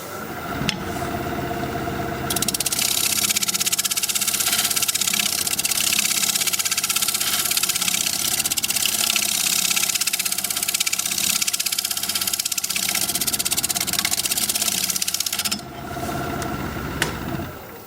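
A lathe spins a live edge alder bowl with a steady mechanical hum while a tool scrapes the wood, producing a loud, continuous hiss that runs for most of the stretch before easing off near the end.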